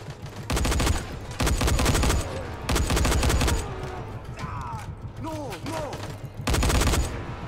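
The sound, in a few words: gunfire in video game Dying Light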